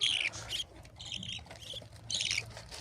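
Budgerigar chicks squawk in harsh, raspy bursts, several overlapping calls repeating close by at moderate volume.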